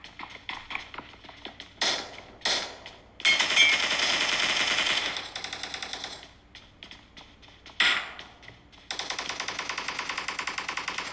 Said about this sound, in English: you can hear all those gunfires and shots